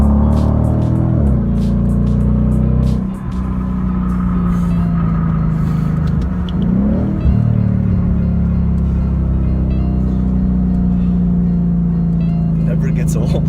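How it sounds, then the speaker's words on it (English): A Ford Mustang GT, factory-lowered, accelerates hard with a loud, sustained engine roar, brief dips as gears shift, then a steady rising drone until the end. "I get a quick acceleration for you guys here."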